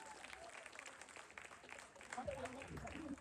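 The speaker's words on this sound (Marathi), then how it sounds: "परत एकदा जोरदार टाळ्या होऊन जाऊ दे" An audience breaks into loud applause after a host calls for a round of clapping, the clapping swelling toward the end with the host's voice over it.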